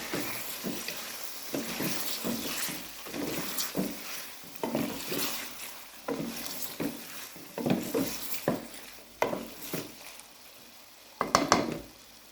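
Green chillies fry for a mutton karahi, a soft sizzle broken by repeated scraping and clinking of a spoon stirring in the pan, irregular and close, with no speech.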